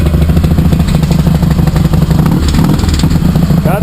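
Fuel-injected Harley-Davidson motorcycle engine idling with a deep, steady rumble and loping low thump, a thin metallic rattle from a worn exhaust pipe baffle riding on top, close and loud throughout.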